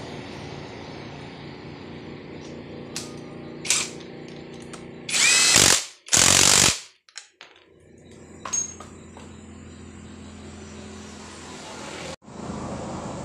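A power tool tightens a bolt on a 125 cc motorcycle engine being assembled in a workshop, giving two loud whirring bursts of about a second each around the middle, with fainter clicks and taps before and after.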